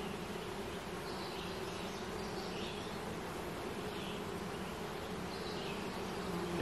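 Honeybees buzz around a hive frame holding brood close to hatching, a dense, continuous hum that stays steady and moderately quiet throughout, with no talking.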